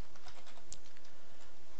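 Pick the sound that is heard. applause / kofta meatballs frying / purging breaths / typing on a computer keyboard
typing on a computer keyboard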